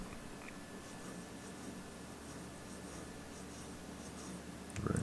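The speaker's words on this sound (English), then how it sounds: "so I'll try to write this with very little pressure here" Extra fine fountain pen nib writing on paper with very light pressure, a faint continuous scratchy scrawl held steady throughout, then a brief louder rub or knock right at the end.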